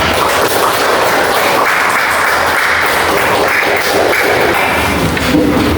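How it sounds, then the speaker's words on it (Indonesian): A classroom group gives a steady, dense round of clapping for two presenters during a teacher-training session, loud and close with no talking over it. "kalau nomor 1 dan nomor 2 kita beri aplaus untuk mereka dulu"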